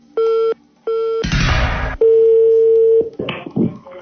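A phone line gives a busy signal: two short steady beeps, then a harsh noisy burst, then a longer sustained tone, followed by brief clicks and a short beep, loud and close.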